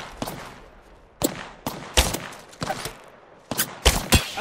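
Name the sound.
gunfire in a video game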